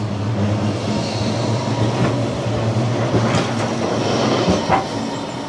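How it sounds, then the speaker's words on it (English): A Blackpool tram heading to Fleetwood rolls past nearby by the sea with a steady rumble and rhythmic wheel clatter, plus occasional faint squeals from the rails. "There's a tram off its way to Fleetwood."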